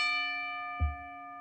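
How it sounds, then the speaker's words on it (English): A single bell is rung once for a wrestling recap show, and its bright, ringing tone sustains and slowly fades, with a soft low thump partway through. "bell ringer, can you give me that bell one time?"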